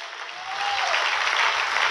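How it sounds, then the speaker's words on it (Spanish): A church congregation breaks into loud applause for a preaching evangelist, a dense roar of many hands that swells after a brief held tone and stays strong to the end, with no talk over it. "denle un aplauso fuerte."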